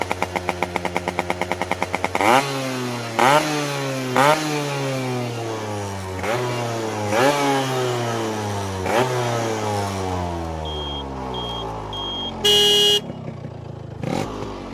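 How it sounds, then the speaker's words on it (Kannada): A restored Yamaha RX 100 two-stroke motorcycle idles with a rapid ticking beat, then revs repeatedly in sharp rising bursts that fall back down, followed by a few short horn beeps near the end. "ಇನ್ನು ನೀವು ಗಾಡಿ ರನ್ನಿಂಗ್ ನೋಡ್ತೀನಿ, ಸೌಂಡ್ ಎಲ್ಲ ನೋಡ್ತೀನಿ ಅಂದರೆ ಕೇಳಿಸ್ಕೊಬಿಡಿ"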